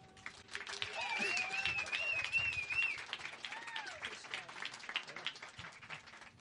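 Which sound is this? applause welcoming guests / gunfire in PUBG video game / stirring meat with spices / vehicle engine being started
applause welcoming guests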